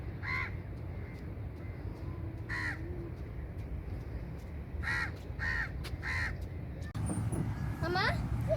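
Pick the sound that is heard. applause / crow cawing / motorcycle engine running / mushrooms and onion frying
crow cawing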